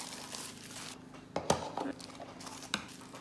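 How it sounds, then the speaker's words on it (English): A small plastic bag crinkles and rustles close by as a hexagonal tap light is unpacked, with a few sharp crackles and faint handling noises at low level. "Now each light comes wrapped in its own little plastic bag"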